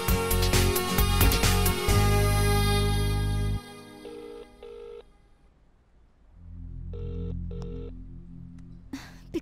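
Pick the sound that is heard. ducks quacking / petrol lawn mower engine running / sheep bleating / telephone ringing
telephone ringing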